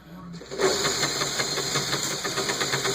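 Lego 10-speed transmission (a 5-speed with a 2-speed box) running in tenth, its road gear: a steady mechanical whir with rapid rhythmic clicking of plastic gears, close and continuous after a brief quiet start.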